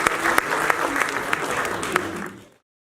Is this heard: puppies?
no